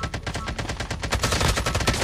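Dense automatic gunfire in a Call of Duty Mobile match, a rapid unbroken rattle of shots close and loud for about two seconds, with no voices.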